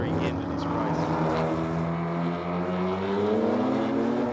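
Race cars, among them a BMW M4 spinning its rear wheels out of a corner in a production-car endurance race, drone steadily with rising engine tones under a commentator's talk.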